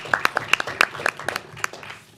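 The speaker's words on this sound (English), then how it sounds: "Please, once again, join me in a round of applause for Olivia." A brief round of applause at a school board meeting: a few scattered, distinct claps at close range, thinning out and fading within two seconds.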